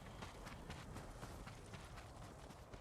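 Horse hooves in the video game Ghost of Tsushima pound out a quick, steady gallop. The clip-clop runs at an even, moderate level from start to finish, set in a busy game soundscape.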